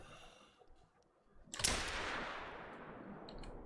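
A single .243 rifle shot fired in the hunting game theHunter: Call of the Wild: one loud, sharp crack breaks a quiet ambience, then a long reverberant tail fades slowly.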